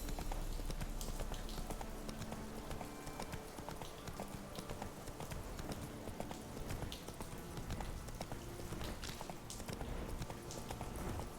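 Roach, a horse in The Witcher 3: Wild Hunt, clip-clops steadily at a brisk pace, hooves drumming close and continuous over a noisy outdoor game backdrop.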